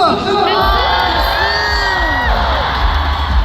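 A large concert crowd at a show in Incheon cheers loudly, with high shrieks, whoops and screams rising and falling over a constant roar of voices.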